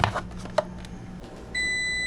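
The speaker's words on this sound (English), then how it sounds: "Ooh, timer's going off." Kitchen oven timer going off: a few scattered clicks and short beeps, then a loud sustained electronic beep tone starting near the end, heard alone with no talking.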